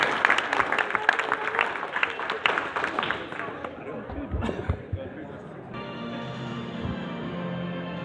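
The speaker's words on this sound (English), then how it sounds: "a warm round of applause for astronaut John Blaha" Audience at the Kennedy Space Center applauding an astronaut, a burst of clapping mixed with crowd chatter that fades after a few seconds, leaving background hubbub and a steady hum.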